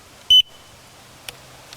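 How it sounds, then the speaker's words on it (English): A gate opener control board emits one short, shrill electronic beep, followed by faint clicks in an otherwise quiet space. "Now it's beeping."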